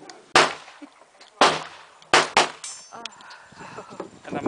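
Four sharp, loud gunshots from a 1912-made Colt 1911 .45 pistol fired outdoors, irregularly spaced with the last two close together, each followed by a brief echo, and people talking between and after the shots.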